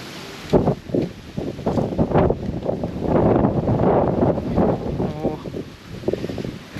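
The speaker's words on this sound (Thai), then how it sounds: "วันนี้ก็ลมค่อนข้างแรงนะครับ" Strong gusting wind buffets the microphone on an exposed clifftop at Pha Mo E Daeng, a steady broadband roar swelling and easing throughout, with faint speech-like bursts mixed into the rush.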